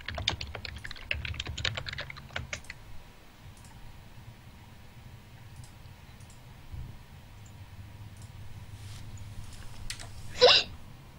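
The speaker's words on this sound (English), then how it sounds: "A hiccup." Keyboard typing clicks fill the first seconds of a Dota 2 game stream, then a single sharp, squeaky hiccup-like yelp pops out near the end, louder than the quiet room noise.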